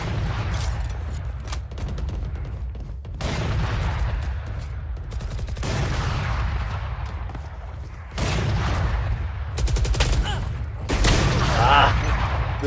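Gunfire in Valorant at a Masters Toronto esports match: rapid bursts and single sharp shots crackle over and over, layered under excited commentator speech and in-game announcer voices.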